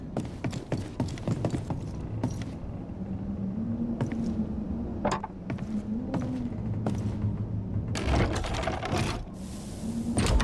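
A crank mechanism worked by hand to run a lift in Banishers: Ghosts of New Eden, heard as rapid mechanical clattering and ratcheting with hollow thuds, a low grinding hum underneath, and louder rattling bursts toward the end.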